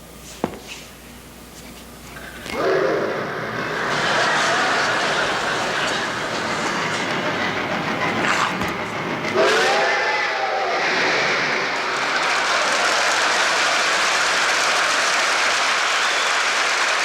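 A train rumbles past with clattering wheels and squealing metal, loud and continuous after a quiet start, mixed with a whooshing rush.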